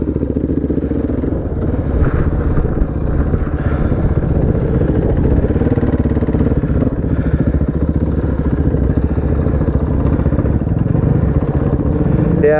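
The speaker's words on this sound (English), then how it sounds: "Because your bike is definitely noisy." A motorcycle engine and exhaust drone loudly and continuously while riding, with a steady mid-range roar and slight rises and dips in engine speed, close and without breaks.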